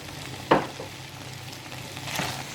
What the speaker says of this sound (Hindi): अब ज़्यादा से ज़्यादा हम इसे 2 मिनट के लिए फ्राई करेंगे।